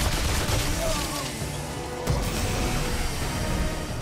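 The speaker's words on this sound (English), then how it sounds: "I went back to the big machine gun because it's just better." Heavy machine gun fire from a Remnant 2 video game weapon, a dense, continuous roar of rapid shots with booming low end, loud and steady apart from a brief dip midway.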